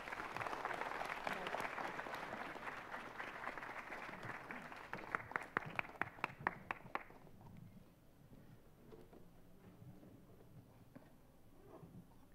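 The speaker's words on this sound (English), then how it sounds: "Everyone, please give a large round of applause for Senator Richard Gordon." Audience applause at a Philippine Red Cross summit as a senator is introduced, a full wash of clapping that thins to a few scattered last claps and fades out into a quiet room.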